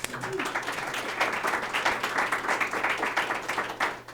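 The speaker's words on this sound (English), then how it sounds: "Let's give them a round of applause." An audience applauds a panel of e-commerce experts at the close of a discussion, producing a steady, dense wash of clapping that holds evenly throughout at moderate volume.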